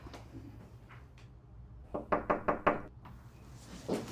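Knuckles rapping on a home's front door, a firm run of four quick knocks mid-clip, with a fainter knock before and one more after, in a quiet room.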